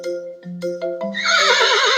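A horse whinnies near a farmyard fence, a loud, close neigh that starts with short tonal calls and rises into a long wavering whinny, alone without talk.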